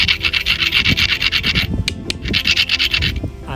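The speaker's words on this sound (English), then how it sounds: "This is the quartz layer, and if I pluck and rub these stones," Quartz stones are rubbed and ground against each other up close, a loud continuous gritty rasping scrape in rhythmic strokes with a brief pause midway, no voices.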